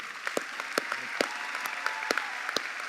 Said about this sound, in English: I want to get a nice round of applause for Dr. Epps